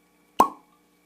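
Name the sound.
cork popping out of beer bottle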